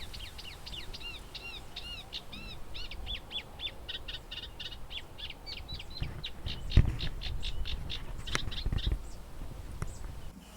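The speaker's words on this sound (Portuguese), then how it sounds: "É o caso do rouxinol pequeno dos caniços, cujos machos não param de cantar empoleirados nas proximidades do ninho." Male Eurasian reed warblers sing near the nest in a reedbed, giving a run of rapid, repeated chirping phrases at moderate distance over a soft ambient background.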